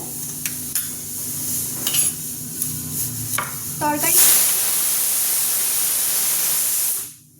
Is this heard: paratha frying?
yes